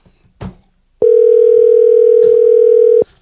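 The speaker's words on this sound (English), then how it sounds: "Let's get him on the phone." A steady telephone dial tone sounds loudly for about two seconds as a call is placed to a guest, preceded by a brief click and faint background noise.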